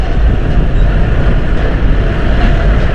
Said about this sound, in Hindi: अब मैं बहुत गंदी पोजीशन पे मोटरसाइकिल चला रहा हूँ यार मैं तो।